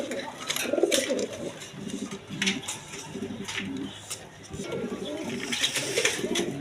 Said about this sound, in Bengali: এখানে এক পেয়ার ফ্যান্ডাল কবুতর আছে সামনে একটা মাদি পিছনে একটা নর